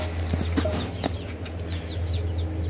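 Backyard chickens of three different sizes inside a small coop with perches and hanging feeders, making scattered soft clucks, chirps and a brief wing flutter against a low steady hum.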